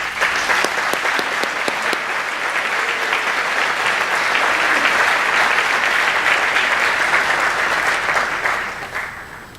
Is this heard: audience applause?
yes